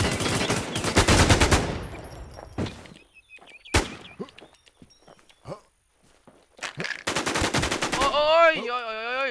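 Video game gunfire rattles in loud rapid bursts of automatic fire, broken by single sharp shots and quieter gaps, with a warbling electronic tone at the end.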